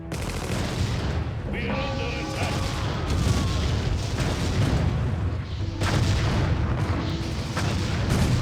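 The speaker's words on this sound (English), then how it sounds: "And everyone is shooting at Vasily yet again." Steady, dense artillery booms and gunfire from a Russian campaign battle in the real-time strategy game Empire Earth, a continuous loud barrage with overlapping shots and explosions and a few brief tonal game sounds.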